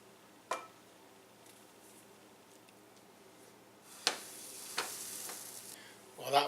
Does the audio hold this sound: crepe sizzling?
yes